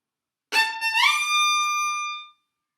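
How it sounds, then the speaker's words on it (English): A violin plays a passage from Beethoven's 4th Symphony where a shift creates an audible portamento slide between notes. Bowed tones start crisply, glide upward in pitch, then sustain and fade within about two seconds, with no talking. "It creates unnecessary portamento, means sliding sound."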